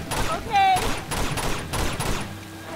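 Pistol gunfire in the video game Uncharted 2, several loud, chunky shots in quick succession mixed with game sound effects and clatter, with no talk over it.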